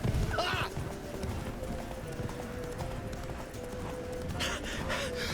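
Horse galloping in The Witcher 3: Wild Hunt, a fast, steady clip-clop of hooves close by with a snort near the start and near the end, under game music and other game sounds.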